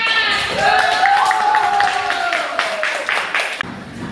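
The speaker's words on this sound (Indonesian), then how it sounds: "Nah, tepuk tangan." A school class applauds, a burst of many hands clapping together, close and fairly loud, which fades out over a few seconds.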